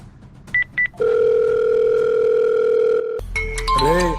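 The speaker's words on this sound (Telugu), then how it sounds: "లేదు సురేష్, కావాలంటే నువ్వు ఒకసారి కాల్ చేసి చూడు." Outgoing call ringback on a mobile phone: two short beeps, then a long steady ringing tone that cuts off abruptly as other tones and a warbling sound begin, close and loud.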